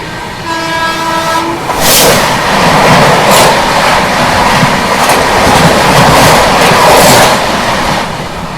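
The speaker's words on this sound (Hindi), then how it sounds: "ये आ रही है सामने से अभी हैदराबाद पुणे शताब्दी एक्सप्रेस, सेंट्रल रेलवेज की एकमात्र शताब्दी" Hyderabad–Pune Shatabdi Express, Central Railway's only Shatabdi, passing at good speed: a brief horn blast opens, then a loud sustained roar and rhythmic rumble of coaches rushing by close at hand, with no talk.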